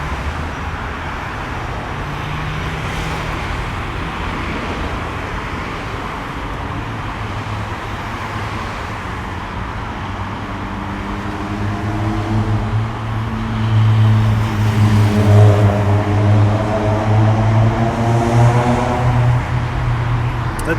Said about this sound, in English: That's why you hear the cars all underneath me right now.